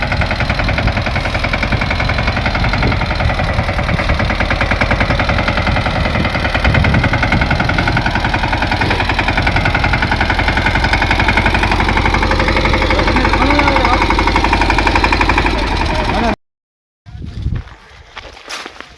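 Tractor engine running on a rough, potholed farm road during the monsoon, a loud steady mechanical drone with rattling and clatter throughout, cutting off abruptly near the end before brief faint noise returns.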